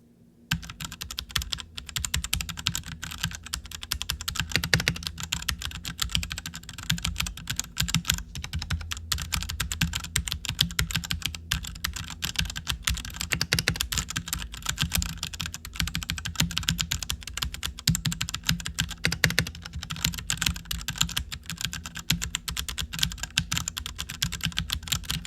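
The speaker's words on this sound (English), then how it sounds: "here is how our keyboard sounds currently without any mod." A mechanical computer keyboard, unmodified before a tape mod, typed on steadily and alone for about 25 seconds, with a dense, continuous run of close clicky keystrokes at even loudness throughout.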